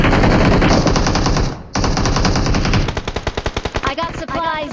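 Loud, close automatic gunfire in the mobile battle royale game BGMI, long dense bursts broken by a brief pause, then rapid distinct shots with game sounds at the end.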